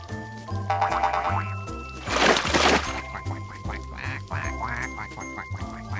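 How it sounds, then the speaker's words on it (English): Cartoon ducks in a children's farm counting song, several distinct quacks in a row over a bouncy musical backing, with a springy boing and a noisy burst midway. "six ducks"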